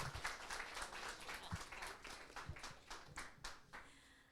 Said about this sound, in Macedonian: повелите е уште еден аплауз да започнеме со уште едно издание